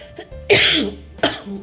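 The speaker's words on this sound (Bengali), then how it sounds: "একটুতেই তো কাশি আরও কাশি শুরু হয়ে গেছে" A person coughs twice, close and loud: a harsh burst with a rough, throaty tail, then a shorter second cough just over half a second later, with no talking.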